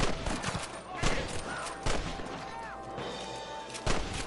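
Gunshots in a Western shootout from the game Red Dead Redemption, several sharp cracks spaced irregularly over a busy background, with a voice briefly heard between them.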